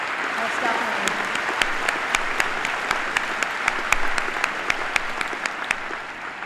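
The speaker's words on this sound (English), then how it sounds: "I think we should applaud that." At a 2013 high school graduation ceremony, a large crowd applauds graduates entering the military, steady loud clapping throughout with scattered sharper individual claps and some voices mixed in.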